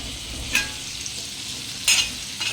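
Green chillies frying in a hot pan with salt give a steady close sizzle, broken by a few sharp crackling pops and scrapes from a small ladle.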